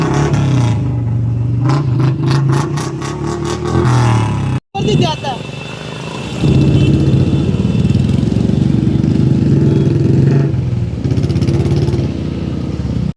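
A motorcycle engine runs loudly and steadily at close range, with a brief cut midway, then rumbles on under people talking.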